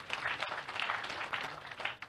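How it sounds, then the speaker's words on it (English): Audience applause at a memorial public lecture, a steady wash of many hands clapping at moderate volume from a hall, continuous for a couple of seconds. "Please, a round of applause."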